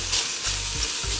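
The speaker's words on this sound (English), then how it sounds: "Can you hear the sound, the sizzling sound?" Onions sizzle and crackle steadily in a hot pan, with a few soft stirring scrapes.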